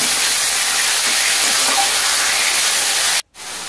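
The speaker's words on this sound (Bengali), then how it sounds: "এবার এগুলো দিয়ে আস্তে আস্তে কষানো হচ্ছে" Whole spices and tomato fry in hot oil for rui fish kalia, a loud, steady sizzling hiss that drops out for a moment near the end.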